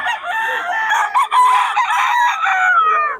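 Young gamecock stag at a rooster market in Bulacan crows once, loud and close, a long strained cock-a-doodle-doo call lasting about three seconds.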